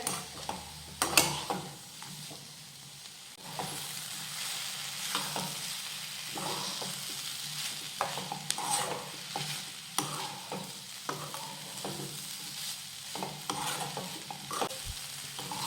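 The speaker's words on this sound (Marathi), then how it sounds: "आणि टोमॅटो या कांद्यासोबत परतून घेऊयात" Tomato and onion sauté in a pan for matar paneer, with a moderate sizzle under repeated spatula scrapes and clinks against the pan that come in an irregular rhythm, and no talking.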